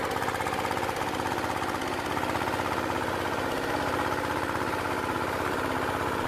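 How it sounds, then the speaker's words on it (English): A vintage Andoria S-301S-7 diesel engine from the early 1970s runs steadily, its rapid, even mechanical knocking pulsing without pause in a loud, continuous, close-up chug, with no talk over it. "Startup procedure for the Andoria S-301S-7 diesel engine focuses on reliable ignition and efficient operation"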